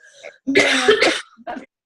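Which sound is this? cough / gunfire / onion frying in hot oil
cough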